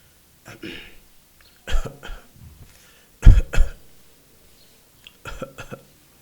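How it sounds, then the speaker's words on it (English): A few soft, short coughs come in separate bursts with pauses between them, close and fairly gentle, with no talking. "you can do a gentle coughing"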